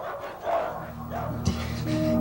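A dog in an old VHS production gives a short bark or yip near the middle, close and brief, set among a man's speech and background tones.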